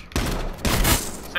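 Gunfire in the H1Z1 video game, two sharp blasts in quick succession followed by a ringing tail, with a short burst at the very end.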